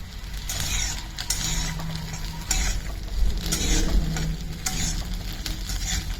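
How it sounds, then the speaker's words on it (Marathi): Fresh green peas are stir-fried in a little oil for a spicy village-style Purandar pea curry. A steady close sizzle runs under repeated scraping and clicking stirring strokes of a spoon against the pan. "आता हे वाटाणे तेलात घातलेले आहेत आणि पाच ते सहा मिनटं त्याला छान असे परतून घ्यायचे आहेत"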